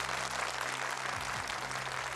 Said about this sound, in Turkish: Kendisini bir kez daha alkışlayarak tebrik ediyoruz